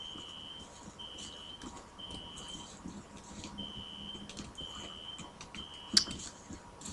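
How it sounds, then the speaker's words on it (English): A fire alarm in the video game F.E.A.R. sounding a repeated steady electronic beep in regular pulses, moderately loud over quiet game ambience, with a sharp click near the end. "Where's the fire alarm?"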